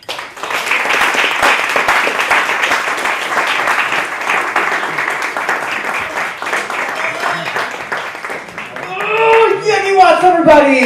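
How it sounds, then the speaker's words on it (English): A live audience applauds and claps steadily for about nine seconds at an evening variety show, a dense sustained patter that swells near the end as a voice begins speaking over it. "Don't hold back those claps."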